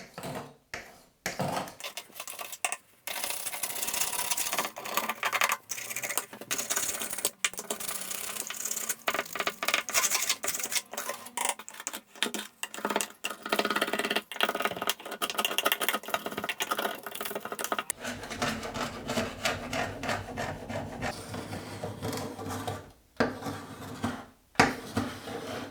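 Old silicone sealant being chipped and scraped away with hand tools, a steady run of sharp clicks, taps and scratchy scrapes close up, with no one talking.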